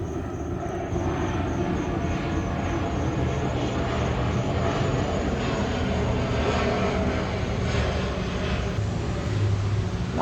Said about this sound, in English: Definitely a jet.